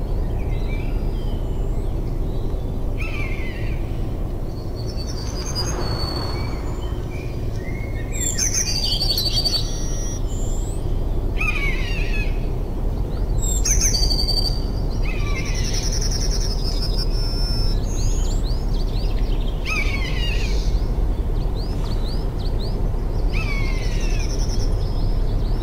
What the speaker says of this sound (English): Kinds of birds.